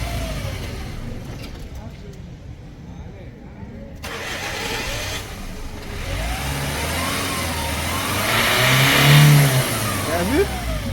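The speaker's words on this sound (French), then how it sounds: "Pour plus de preuves, on va éteindre encore le véhicule et rallumer voir." A car engine running on homemade fuel restarts and revs, the starter catching and then rising engine roar building to a loud peak near the end, with talking over it.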